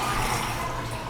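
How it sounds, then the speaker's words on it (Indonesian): A hotel bathroom shower runs hard, giving a steady, close rush of water for the whole short moment. "Airnya nyala ya, kencang. Showernya juga."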